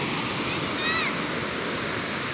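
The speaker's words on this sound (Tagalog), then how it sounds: "Malaki ng alon." Big ocean waves surge in a constant loud, broadband wash of surf with no breaks, a brief whistle-like tone cutting through near the middle.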